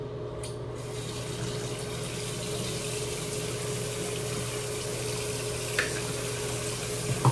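Hot water runs steadily to wet a shaving brush before a straight-razor shave, a continuous close rushing flow with a couple of faint clicks near the end.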